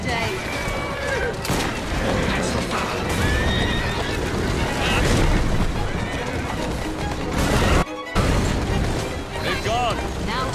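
Horse-drawn carriages in Assassin's Creed Syndicate rattle along with clattering hooves and repeated horse whinnies over a dense, continuous roar of wheels and street noise, with voices talking over it and a brief dropout near the end.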